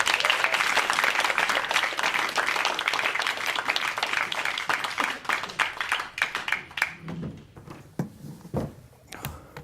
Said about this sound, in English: please give a huge round of applause for Antony Adams!